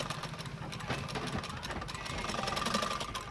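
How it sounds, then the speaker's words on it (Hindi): Sewing machine stitching lace onto a suit sleeve, a steady fast mechanical whir and chatter running throughout at moderate loudness, close by, with no talk over it. "यहाँ पे ऐसे करके लाके यहाँ पे एक ऊपर एक रख के सिलाई लगा देते हैं।"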